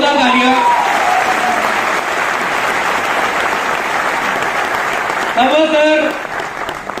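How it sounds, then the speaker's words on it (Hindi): Loud audience applause fills a large hall at a Vestige event, a dense sustained clatter of clapping running the whole stretch, with a voice speaking over it at the start and again near the end. "एक बार जोरदार तालियां।"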